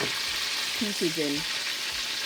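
Bammy slices made with coconut milk fry in oil on a stove set to low, giving a steady soft sizzle throughout while a person speaks briefly over it.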